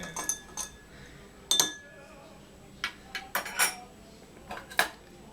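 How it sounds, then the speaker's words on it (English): A metal bar spoon stirs a Martinez cocktail in a glass, giving scattered light clinks and chinks against the glass in an irregular rhythm, close and fairly quiet, with a brief spoken word. "the spoon easily swirls around as I stir"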